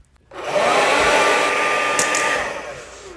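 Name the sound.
hair dryer blowing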